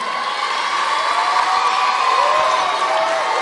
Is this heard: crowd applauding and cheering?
yes